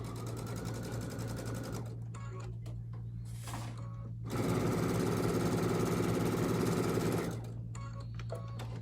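A sewing machine stitches a quilt using a quarter-inch guide foot, running in short bursts with pauses and then one longer steady run of rapid needle chatter at close range over a constant low hum.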